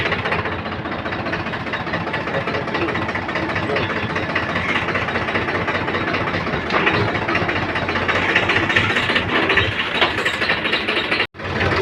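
A tractor engine runs with a loud, knocking idle while a cutter is hitched to it, a steady chugging rumble that briefly cuts out near the end before resuming.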